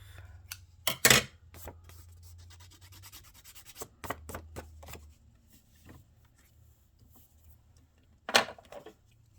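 Scissors trim the paper cover of a double-sided Christmas junk journal in a few separate bursts of snipping. The cuts come as short crisp strokes with quiet pauses between them, and no one speaks.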